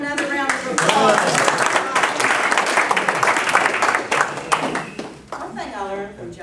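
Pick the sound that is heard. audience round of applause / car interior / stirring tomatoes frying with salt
audience round of applause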